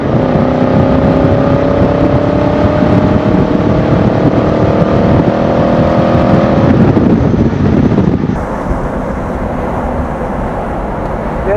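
An open 1970 Mercedes 280 SE 3.5 Cabriolet pulls away strongly on a country road, its engine note loud and rising steadily under heavy wind rush before easing off, with no talk.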